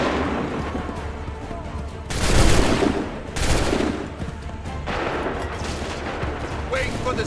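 Musket volley gunfire in the video game Assassin's Creed III: loud crackling bursts of massed shots, with a big volley around the middle and another after it, over continuous battle noise and faint voices.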